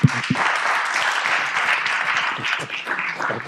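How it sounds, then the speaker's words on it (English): Audience applause at an SEC Contra Costa event on blockchain technology, a steady wash of clapping lasting a few seconds, fairly close, with a brief voice near the start. "Round of applause."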